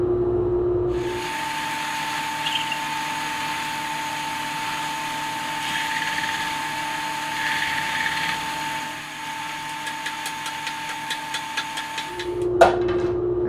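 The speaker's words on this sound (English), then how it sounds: "Now I'm going to take my mountains and hand sculpt them just a little bit on the sander." A power sander shapes small wooden craft mountain cutouts, its steady motor whine running loud and close for about eleven seconds with faint scraping as the wood is pressed against it, then it stops, followed by a few clicks.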